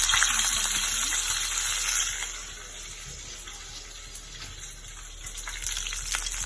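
Mustard seeds and curry leaves sizzle in hot oil for a prawn masala, a steady close hiss that is loudest at first, eases off midway and swells again toward the end.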